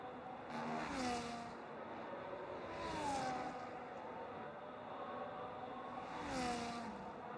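A Ferrari race car in a sim racing game on the Belgian circuit toward the chicane, its engine rising and falling through repeated revving passes, heard faint and at a distance.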